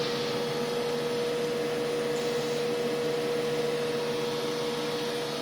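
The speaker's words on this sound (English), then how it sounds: "Now I'm going to extrude some material out of the barrel" An injection molding machine pushes melted plastic out of its barrel, making a steady, continuous mechanical roar with a constant tonal hum and no breaks.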